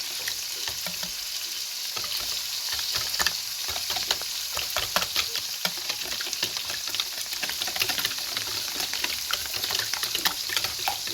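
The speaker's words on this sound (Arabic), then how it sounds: "عملنا البيض هنقلبه كده اهو" Eggs fry and sizzle steadily in a pan for Egyptian shakshuka, with scattered clicks and scrapes as they are flipped, close and continuous with no talking.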